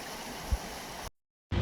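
River water flowing, a steady broadband rush of moderate loudness with one soft thump, cut off by a short silence before resuming.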